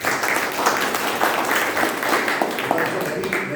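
Audience at a Toastmasters club meeting breaks into sustained applause, many hands clapping densely and steadily throughout at moderate loudness.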